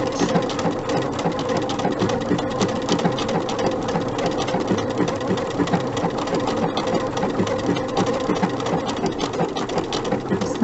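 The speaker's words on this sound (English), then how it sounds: "I'm going to just go right over the top of them with my buttonhole stitch" A sewing machine runs a buttonhole stitch over applique edges, a loud, steady, fast mechanical chatter that continues without a break.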